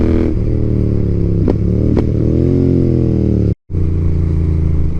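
A Royal Enfield Interceptor 650 motorcycle is ridden, its engine giving a loud, close, steady drone with slight pitch shifts and one brief dropout, and no voices.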